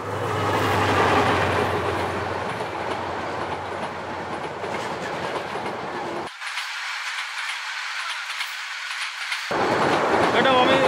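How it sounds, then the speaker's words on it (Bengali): Train rumbling past with loud continuous clattering wheels and rolling noise, the low end cutting out midway before the roar returns, near and dominant. "ওই যে একটা ট্রেন যাচ্ছে"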